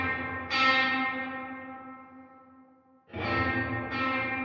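Guitar chords played through a Line 6 Helix with a big reverb setting: a chord rings out and fades slowly into a long wash, then two more strikes follow close together, each swelling with a spacious tail.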